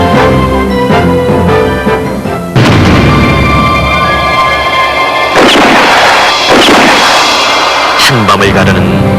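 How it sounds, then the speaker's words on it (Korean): A documentary sound effect of sharp gunshots in the night, loud cracks and booming blasts over a dense, continuous noisy background, with several strong bursts spread across the clip. "한밤을 가르는 날카로운 총성"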